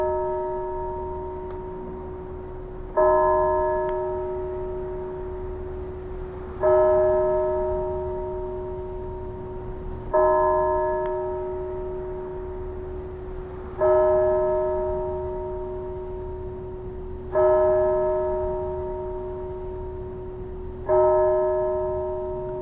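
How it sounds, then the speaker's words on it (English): Church bells ring in a slow, regular sequence of six loud strikes spaced a few seconds apart, each tone ringing out and decaying before the next. "I'm going to let you hear those church bells. And they're going to ring."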